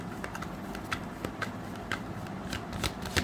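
Tarot cards are shuffled up close, with soft, quick riffling flicks and papery slaps repeating in an uneven rhythm over a faint room hiss.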